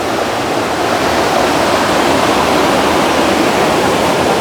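A waterfall roars with a dense, continuous rush of falling and flowing water, loud and close, with no breaks or other sounds rising above it.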